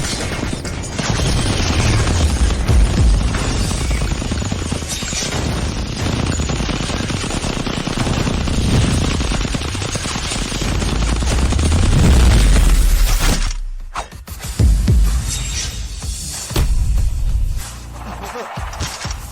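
Rapid bursts of gunfire from a drama's fight scene rattle loudly and continuously, with heavy booms and crashes, a brief silent break, then further shots and impacts, while voices speak under the din.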